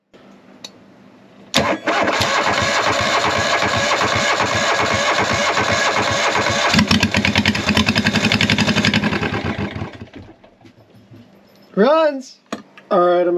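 A used portable generator fed by a fuel line from a funnel cranks and fires up, then runs at a loud, steady mid-pitched rumble for several seconds before shutting down, followed by a few short vocal sounds near the end.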